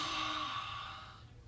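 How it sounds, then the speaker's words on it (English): A long, forceful exhale through a wide-open mouth with the tongue stuck out during a yoga breathing exercise, a single breathy rush that fades out over about a second. "Open the mouth, stick out your tongue and exhale"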